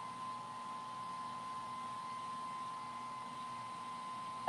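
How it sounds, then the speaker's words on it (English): A hair dryer runs steadily at low volume in a room during a craft project, giving an even, continuous hum with a faint whine throughout and no speech. "Can you guys hear the hair dryer?"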